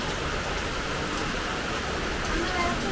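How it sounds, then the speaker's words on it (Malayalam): Steady rain falls heavily and continuously during hot weather at a home, a dense close hiss of drops on surfaces with no breaks. Faint voices can be made out beneath the downpour. "നീ കണ്ടോ മഴ പെയ്യുന്നേ?"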